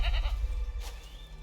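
Goats bleat in the Assassin's Creed 3 game world, with a short nasal call near the start and a fainter second call shortly after, over a steady low background hum.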